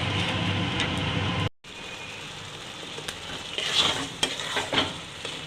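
Water goes into a pan of fried khesari dal, bringing a brief rush and then a steady close sizzle with stirring and scraping, plus a few light clinks.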